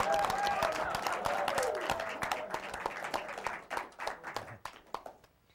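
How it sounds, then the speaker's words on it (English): An audience gives a round of applause for a man at a comedy show, dense and loud at first and then thinning into scattered claps that fade out. "a round of applause for him"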